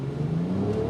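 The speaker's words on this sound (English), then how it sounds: "You got to throw the exhaust note even out of that i6 turbocharged, supercharged blend." A 2021 Jaguar F-Pace with a turbocharged and supercharged inline-six, driven in sport mode, gives a brief steady exhaust drone that rises slightly in pitch, heard from inside the car with no talking.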